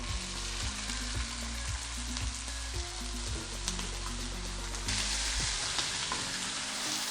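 Pieces of lamb drop into hot, lightly smoking oil in a pan and give a steady, fairly quiet sizzle with occasional stirring. The sizzle swells slightly toward the end, and no one speaks.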